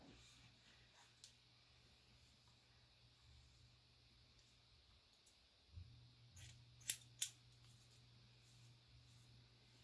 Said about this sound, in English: we're going to cut straight across